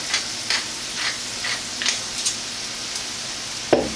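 Stuffed bell pepper filling being stirred in a hot pan, with a soft steady sizzle under repeated scraping strokes of a spoon at a slow rhythm, close and moderately quiet, with one sharper knock near the end.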